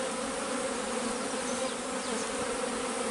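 A dense, continuous hum of a honeybee colony buzzing together inside a hive, close and steady throughout, with no other sounds.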